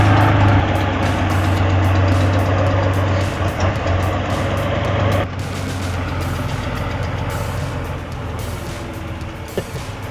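A big diesel engine of a Soviet K700 tractor roars steadily up close, a deep continuous drone that eases slightly partway through.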